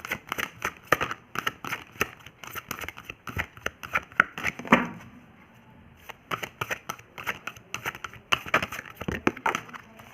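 Cards being shuffled for a charms reading give rapid riffling and flicking bursts close by, with a short quiet gap midway before the shuffling resumes; no speech is heard.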